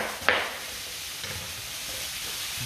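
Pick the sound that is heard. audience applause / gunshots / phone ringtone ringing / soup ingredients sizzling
soup ingredients sizzling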